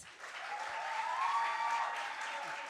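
An audience at a church singing contest applauds the semi-final contestants, a dense, steady wash of clapping that swells slightly toward the middle and holds throughout.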